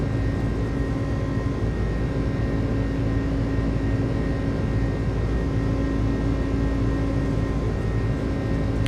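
An iniBuilds A300 DHL freighter in Microsoft Flight Simulator runs its engines at takeoff power at Leipzig, giving a steady, loud, unbroken roar with a low rumble and a faint tonal whine held throughout.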